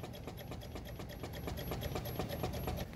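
A 2009 Honda Civic Hybrid engine with a seized A/C compressor cranks without fully starting, giving a fast, even mechanical chugging pulse that stays steady and fairly quiet throughout, with no talking.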